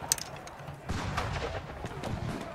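Scattered gunshots crack and pop at moderate distance in a film battle scene of the Battle of Tarapacá, War of the Pacific, several irregular bursts over a low rumble, faint overall.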